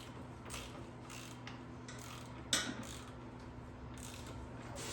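A wrench cracks loose a 19 mm rear axle bolt on a 1975 Honda XL125 motorcycle with faint creaking and clicking, then a single sharp metallic snap, over a low steady hum.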